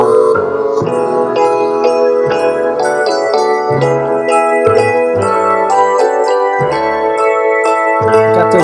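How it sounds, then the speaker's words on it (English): Bell-like keyboard tones in a recorded piece of music, bright chiming notes in a flowing melodic line over bass and other instruments, loud and steady throughout with no voices. "got those little bell-like keyboards"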